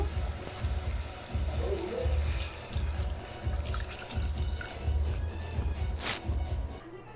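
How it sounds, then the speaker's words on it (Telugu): Glassfuls of water pour in short repeated bursts, a gurgling splash into a cooking pot of goat legs, quiet and close, with faint clinks between pours. "నేను వాటర్ పోసుకుంటున్నాను, గ్లాస్ వాటరు."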